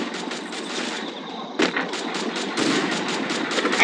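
Rapid gunfire in a shooting video game, bursts of automatic shots in quick rattling succession, loud and close, building to denser firing near the end, no talk.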